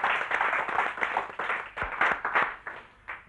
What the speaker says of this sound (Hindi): जरा जोर से ताली बजाइए, बहुत अच्छा लगता है।